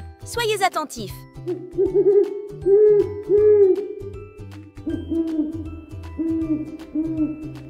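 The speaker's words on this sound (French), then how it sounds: "C'est le hibou!" An owl hoots in repeated low, soft calls, fairly close, while a voice speaks briefly at the start.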